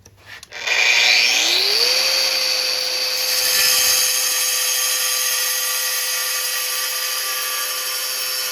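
A power tool spins up with a rising whine and settles into a sustained loud high drone while cutting down a metal skid plate bracket during an oil pan and skid plate installation, close and continuous.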